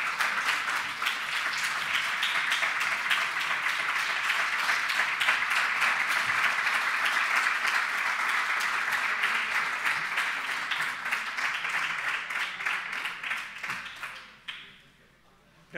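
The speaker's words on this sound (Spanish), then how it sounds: "si os ponéis en pie y aplaudís, yo digo que he levantado a la gente" Audience at a Spanish software development conference talk breaking into sustained, dense applause that holds steady for over ten seconds before tapering off and stopping near the end.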